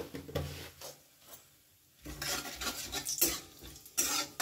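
Bay leaf pieces, cloves, cinnamon and cardamom drop into oil left from frying pointed gourd, with scraping stirs, a quiet pause, then louder bursts of sizzling and utensil clatter.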